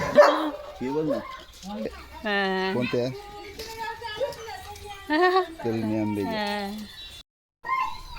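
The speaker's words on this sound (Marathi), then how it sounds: "लिओला भुकत कुत्रे" Dogs bark and yip in short bursts, mixed with people talking nearby.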